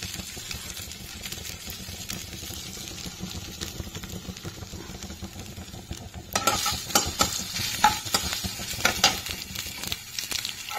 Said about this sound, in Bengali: আদা বাটাটা যখন তেলের মধ্যে মোটামুটি একটুখানি ফ্রাই হয়ে যাবে